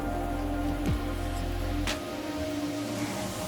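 Steady rain falling outdoors in the Australian bush, a constant moderate hiss of drops on surfaces with a low rumbling background, no talk over it.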